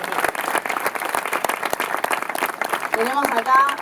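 Scattered audience clapping at a political talk on France and the left, sparse distinct claps at first that thin out as a voice begins speaking over them near the end.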